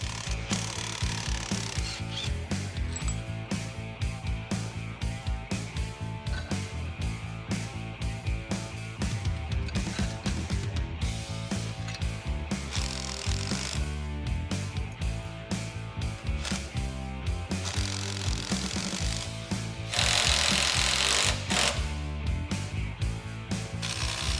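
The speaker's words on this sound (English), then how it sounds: "Easiest way to install your ball joints is with a ball joint press." Continuous rapid clicking of a ratchet working a ball joint press to install ball joints on a 1996 Chevy Tahoe, steady and mechanical throughout, with a brief louder stretch near the end.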